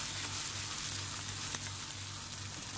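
Chicken karahi, Lahori style, fries in a pan with a steady, close hiss and crackle of sizzling oil that holds evenly throughout, with a few brief pops and no voices.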